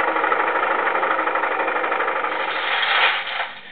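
A boat engine runs steadily out at sea, a loud droning hum with a fast pulsing rhythm that swells briefly near the end before easing off, with no voices.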